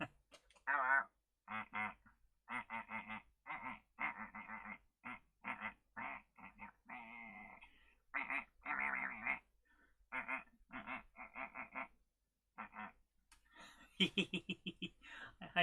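Repeated cartoonish quacks from Ed the Duck, a character in the Amiga-era platform game James Pond 2: Codename Robocod, coming in short rhythmic bursts through the clip, with a busier run of calls near the end.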